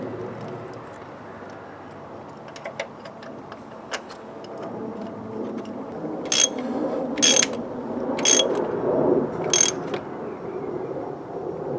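A ratchet torque wrench tightens spark plugs on a Renault Megane Mk3, giving scattered clicks and then several sharp bursts of ratcheting close by over a quiet, low workshop background.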